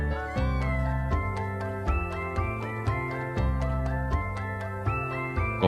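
A young kitten meows repeatedly in quick, rhythmic succession, with about a dozen short, clear calls close by.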